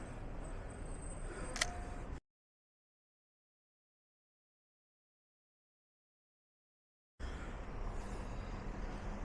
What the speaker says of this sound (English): The MX is also reasonably quiet shutter sound